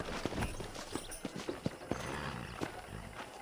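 Horse hooves clip-clop at a steady walking pace in the Red Dead Redemption video game, a sequence of crisp, fairly faint hoofbeats over a soft background.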